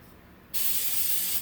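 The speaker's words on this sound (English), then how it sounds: "I'm going to spray my pan with some coconut oil spray" A single short burst of coconut oil cooking spray onto a pan hisses loudly for about a second close by, then stops abruptly.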